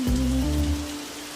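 Steady rainfall in a TV drama scene: a continuous close hiss of falling rain over a low sustained hum, with no speech.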